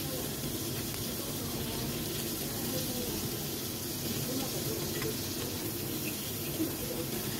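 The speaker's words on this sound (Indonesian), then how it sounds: "ini untuk ayamnya juga kita goreng setengah kering aja" Chicken pieces fry in oil in a pan, a steady dense sizzle and crackle that stays even and fairly close throughout, with no talk over it.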